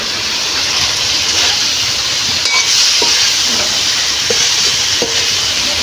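Food with ground spices sizzles steadily in a pan in a home kitchen, a constant close frying hiss with a few faint clinks of stirring, no talking.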